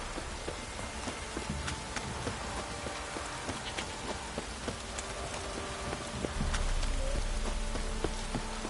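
Light drizzling rain in The Witcher 3 video game, a steady soft patter of drops with faint insect-like buzzing beneath, continuous and even throughout with no voices.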